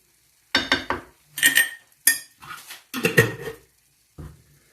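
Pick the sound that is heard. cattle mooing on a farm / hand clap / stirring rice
stirring rice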